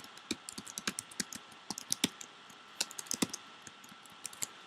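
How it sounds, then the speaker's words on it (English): Quick bursts of computer keyboard typing as a phrase is entered into a text box, uneven clusters of sharp close key clicks with brief pauses between them, and no voice. "I'm going to go ahead and type properties of matter"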